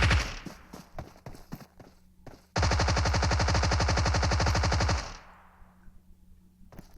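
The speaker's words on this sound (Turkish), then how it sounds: "hınzırca Simon için Thompson'la tarıyor" A Thompson submachine gun fires a long rapid burst lasting a couple of seconds in PUBG Mobile, preceded by scattered single shots and clicks.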